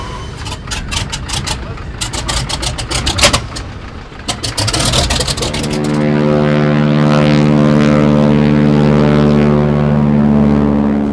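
A propeller floatplane on a fly-in fishing trip in Ontario comes in over the trees and lands, loud and close. Its engine drone rises, then settles into a steady strong hum while a voice speaks over it.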